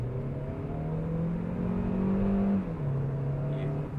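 A Kia Carens Clavis engine pulls steadily on an open, empty road, its drone rising in pitch and then dropping off as the gear changes, with a faint voice under the sound.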